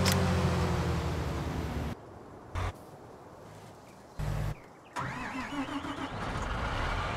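A semi-truck in Farming Simulator 19 cranks and starts its engine, with short bursts of engine noise followed by a steady idle that rises near the end.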